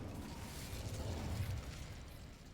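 Incendio fire spell cast in the video game Hogwarts Legacy, a low rumbling whoosh of flame that swells briefly and then settles, fairly faint and with no voices.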